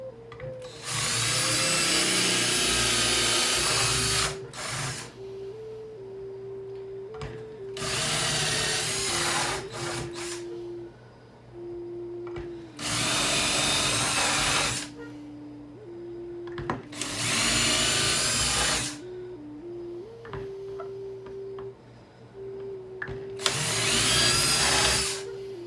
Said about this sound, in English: let's go ahead and drill out the rest of the spots